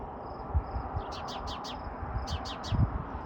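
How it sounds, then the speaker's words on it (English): A mother bird calls and scolds in two quick bursts of sharp, repeated chirps, three or four notes each, fairly close, over a low outdoor hum on a hot evening in the Okanogan Valley. "Mama Bird is giving us heck."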